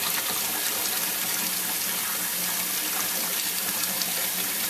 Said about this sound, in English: Literally just let the water pour over the top so that you displace all the hot water.